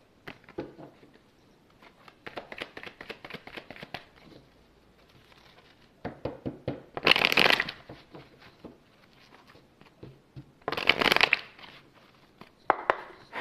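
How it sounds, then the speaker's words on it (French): A deck of oracle cards being shuffled, with repeated soft riffles and crinkly rustles in bursts and two louder sharp shuffling surges, close and without talk. "je prends mon petit oracle de la vérité"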